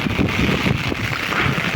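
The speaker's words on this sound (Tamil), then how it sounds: "சரியான காற்று, நல்ல காற்றடிக்குது." Strong wind gusting through rain in a steady, loud, unbroken roar that fills the whole stretch, with no distinct banging of the loose tin sheet standing out.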